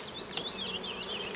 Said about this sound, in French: Le bas a l'air d'être blindé d'abeilles, le haut aussi